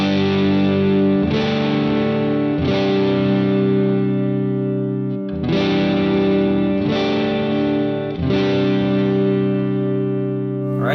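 Fender Player Series Stratocaster chords on the neck pickup ring out with a warm, slightly overdriven tone, struck every couple of seconds and left to sustain, loud and close.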